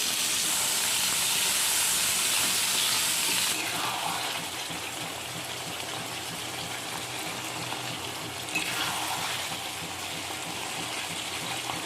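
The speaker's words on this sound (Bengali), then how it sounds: "এই তেলের মধ্যে আলুগুলো ভেজে নিই" Potatoes frying in hot oil in a Bengali home kitchen, a loud, steady hiss and sizzle running throughout, sharpening briefly twice, with no one talking.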